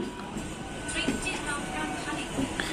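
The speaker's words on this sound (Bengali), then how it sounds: "দেখতে দেখতে লিলুয়া ক্রস করে হাওড়ার দিকে ট্রেন ঢুকছে" Local train running past Liluah toward Howrah station in rain, a steady close rumble of wheels and carriage from inside the coach.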